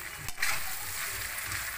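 Spicy spareribs fry in a pan with a continuous crackling sizzle, close and steady, with one brief knock of the pan near the start and no voices.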